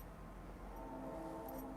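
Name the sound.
loud passing train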